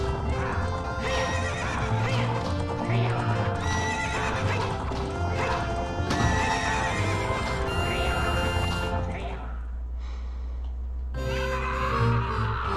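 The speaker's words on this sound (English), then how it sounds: "What's up with that horse? Is that Epona?" The horse Epona from a Zelda video game whinnies and neighs with clip-clopping hooves, set over steady game music, a short gap, then the music resumes.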